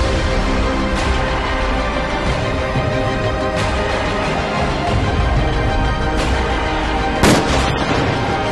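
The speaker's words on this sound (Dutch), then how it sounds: "We zagen een vrij grote explosie." Landmine blasts during anti-personnel mine clearance: a series of loud, sharp booms roughly every one to three seconds over a dense, continuous roar.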